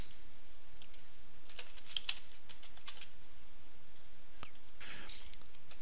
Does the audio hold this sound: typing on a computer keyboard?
yes